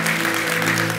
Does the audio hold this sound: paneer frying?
no